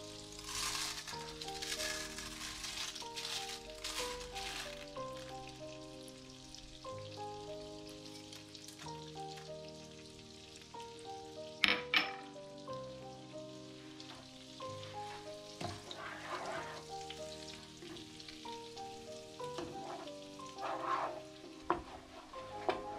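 Vermicelli fries in margarine in a pot for chickpea pilaf and is stirred throughout, with a soft steady sizzle, occasional scraping clinks of the spoon and quiet background music underneath.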